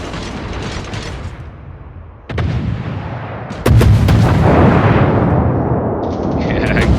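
Naval guns fire at a target in a warship battle game, deep booming shots landing in quick succession over a dense, continuous roar of battle noise.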